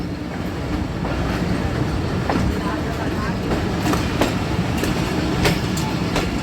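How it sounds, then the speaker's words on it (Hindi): Pakistani Rehman Baba Express passenger train rolling on rails as it curves toward a station platform near a shunting yard, a steady loud rumble with recurring clicks and light wheel squeal throughout. "और अभी भी आप देख लें कि ये कर्व लेके हमारी ट्रेन 4 नंबर प्लेटफार्म पर अप्रोच बनाएगी।"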